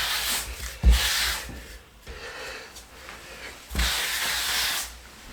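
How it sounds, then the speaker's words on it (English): Broad swishing strokes of a tile floor being rubbed and buffed, with a few loud passes and softer scrubbing between them, heard close up. "I've been rubbing and polishing and buffing that floor"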